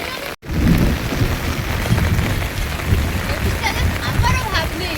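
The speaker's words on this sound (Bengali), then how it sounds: "বিরাট জোর বৃষ্টি পড়ছে।" Heavy rain pours down loudly and continuously, a dense close roar of drops with a brief dropout right at the start.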